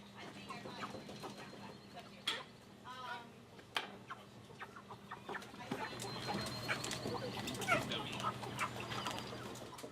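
Chickens on a poultry processing line during harvest cluck and squawk in a steady, busy chorus over a constant mechanical hum, close by.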